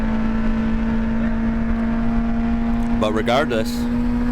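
A VW GTI hot hatch lapping the Nürburgring holds a steady, droning engine note at speed, with someone briefly talking over it near the end.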